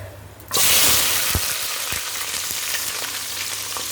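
Sliced onion and green chillies drop into hot oil for tomato rice, setting off a sudden loud, bright sizzle that holds steady with occasional stirring knocks, close and without talk.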